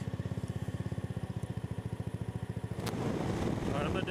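A scooter's small engine putters in a steady rapid pulse, then revs up into a louder, denser drone as it speeds along a back road, close to the microphone with no talk over it.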